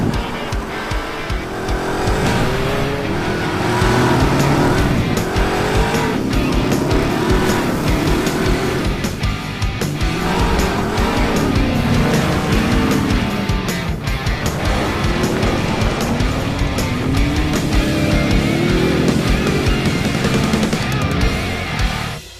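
A Ford Ranger Raptor, an F-150 Raptor and a Bronco race off-road, engines revving hard and rising and falling in pitch as they push through, with tires scrabbling on dirt, loud and continuous with no talk.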